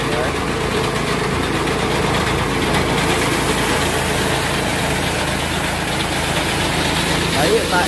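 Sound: petrol engine running on a rice threshing machine

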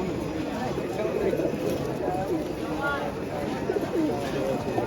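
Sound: pigeons cooing

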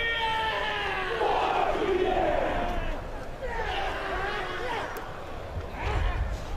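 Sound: whole school crowd performing a haka war chant

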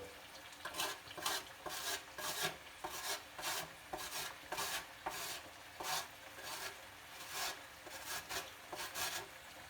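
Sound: grating garlic on a kitchen grater

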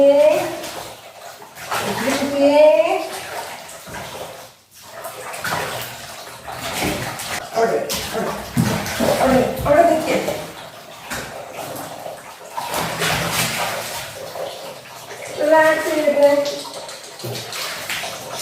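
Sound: water running while bathing a cat at home

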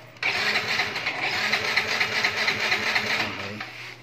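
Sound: Honda Mio 125 scooter engine starting

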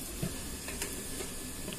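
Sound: fish pieces frying in a pan

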